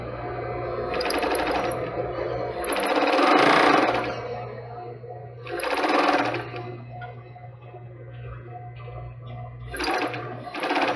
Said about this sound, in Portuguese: Agora nós vamos costurar até encontrar aqui.